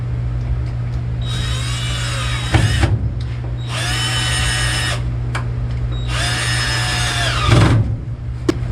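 A power driver sinks screws into a wooden bed platform in a garage, with three whirring bursts of a few seconds each separated by short pauses and clicks, close and loud, with a steady hum underneath.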